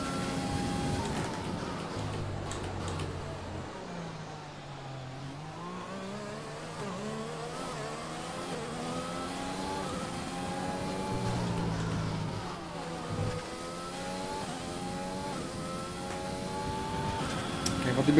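Race cars in the video game F1 2020 at the Chinese Grand Prix, engines revving and shifting up through gears in a steady, continuous drone, with several cars close together and no talk over them.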